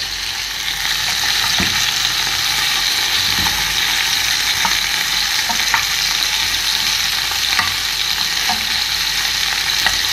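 Sausage sizzles steadily in oil in a frying pan, a continuous hiss with occasional scraping clicks as it is turned and stirred so it won't stick; no talking.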